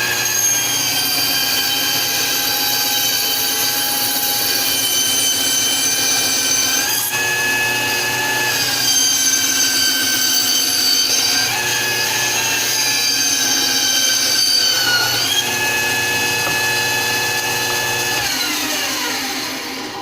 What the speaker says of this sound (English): Well, something ain't right with my bandsaw.